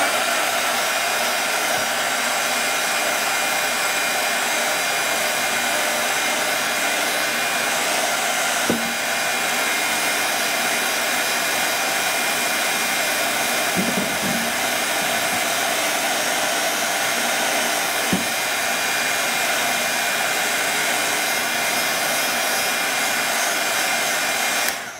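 Hair dryer blowing steadily on a watercolor painting, a loud continuous close-up whoosh lasting about 25 seconds with only a few faint clicks and bumps and no talk.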